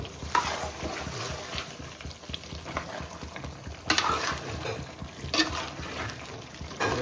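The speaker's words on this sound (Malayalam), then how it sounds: "നന്നായിട്ടൊന്ന് ഇളക്കി കൊടുക്കാം" Chicken biriyani masala being stirred in hot oil, a steady close sizzle broken by scraping spoon strokes and a few louder stirring bursts, with no voices.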